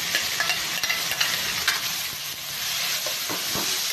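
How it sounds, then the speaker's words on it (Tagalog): Tomatoes sautéing in a pan for a Filipino fish dish with garlic and finger pepper: a steady close sizzle with scattered stirring scrapes and clicks throughout, no talking. "Gigisa natin idol, no? Kamatis."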